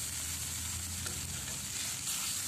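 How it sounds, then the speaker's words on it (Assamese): Hot water poured into a hot cooking pot while making titaphool khar, an Assamese dish, giving a steady, close hiss and sizzle with no talking. "ইয়াতে এতিয়া মই পানী দি লৈছোঁ, আগতে অলপমান গৰম পানী দি লৈছোঁ।"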